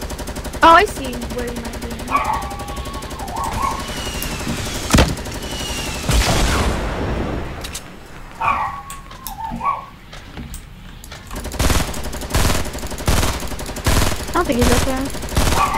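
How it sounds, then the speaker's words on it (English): Rapid bursts of automatic gunfire in the Fortnite battle royale video game, loud and close, firing in repeated volleys with short pauses, while a player talks over the shooting. "I have a thousand ammo, so I'm kind of shooting what I see."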